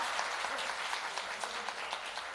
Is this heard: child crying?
no